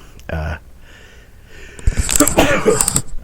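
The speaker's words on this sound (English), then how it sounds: "Sorry, had to sneeze" A single sharp sneeze bursts out close by, followed by a burst of noisy rustling and breathing.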